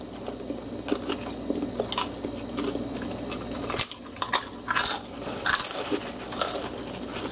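Someone bites into and chews a chewy piece of fried food close to the mic, with repeated moist crunches and soft smacking in an uneven rhythm, plus faint clinks of dishes nearby.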